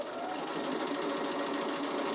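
A Bernina sewing machine runs steadily, stitching a zip around a curve for a half-moon bag, its fast even whir continuous and close throughout.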